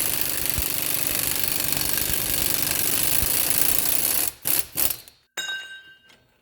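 Rapid continuous metallic hammering on a wheel hub of a 2015 Kia Forte 5, like a powered impact tool, running steadily before cutting off into a few short bursts and then silence.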